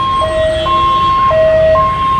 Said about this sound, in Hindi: ये देखिए एम्बुलेंस का फिलहाल एक संघर्ष चल रहा है इस कंजेशन में से